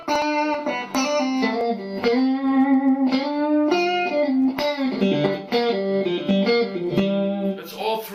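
Electric guitar on a Pearlvibe Strat-style body with a Lavacaster abalone top, set to the juicy Freeway 10-way switch position with three pickups in parallel; bright, quacky chords and notes ring continuously, loud and close.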